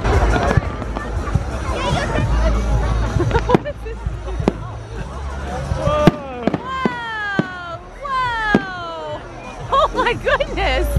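Guy Fawkes Day fireworks pop and crack outdoors in sharp, loud bursts and whistling streaks, mixed with excited voices and a crowd murmuring close by.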